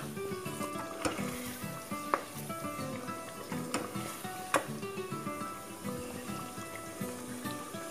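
Mutton being roasted in a pan for an Iftar dinner, a steady close sizzle with scraping stir strokes throughout, no voices.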